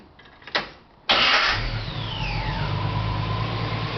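A Jeep YJ engine fitted with an Empi carburetor, already warm and off the choke, catches abruptly after a brief click, flares loudly, then settles into a steady, close idle with no talking.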